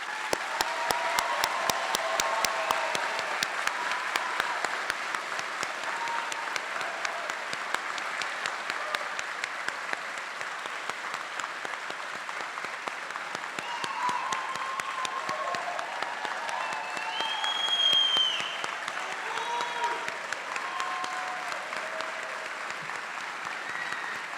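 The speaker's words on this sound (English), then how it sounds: "let's give them a round of applause" Sustained applause from an audience at a fire and rescue recruit graduation ceremony honoring Recruit Class 33 after its pinning ceremony, dense steady clapping that swells briefly near the end, with faint whistles.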